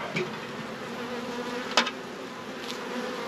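Many honey bees hum around an opened hive in a steady dense drone close by, with a few louder buzzes passing near.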